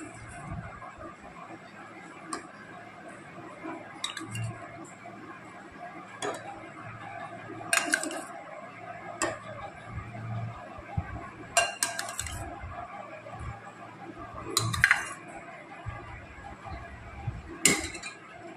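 Bowls and spoons clink sporadically while sweet-sour curd is served into three small bowls. The light taps and clinks come in irregular bursts over quiet room noise.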